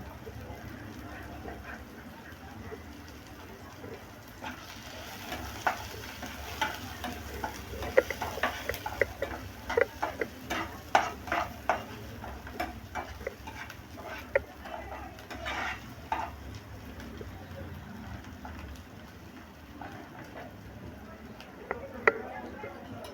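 Tomato stirred into pink-fried onion in a pan for egg bhurji, with a steady low sizzle and repeated scraping and tapping of a spoon, plus occasional sharper clicks, at moderate level throughout.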